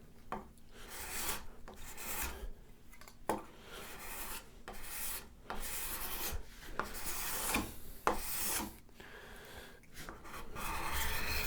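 A dull burred card scraper is drawn across wood to raise shavings, producing repeated close rasping strokes with short pauses between them and a steady, even rhythm.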